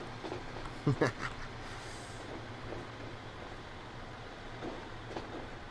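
A Class 156 Sprinter diesel train runs in the video game Transport Fever, giving a steady low rumble with a few sharp clicks near the start; a voice talks faintly over it.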